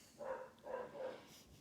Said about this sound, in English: Sorry about the dogs. Somebody's walking by.